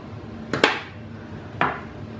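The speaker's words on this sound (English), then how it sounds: "So we'll trim the stem." Sunflower stems being trimmed indoors: two crisp, separate cutting snaps about a second apart, close and clear, in a quiet room.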